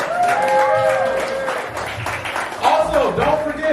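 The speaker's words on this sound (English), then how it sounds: "Give it up for Cannon the shooter." A live audience at a poetry slam finale claps and whoops for a performer, loud mixed cheering with rising shouts toward the end.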